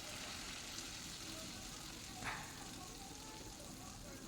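Dough made from wheat flour is lowered into hot oil in an iron kadhai and sizzles with a low, steady, faint hiss. A small bubbling burst rises briefly partway through.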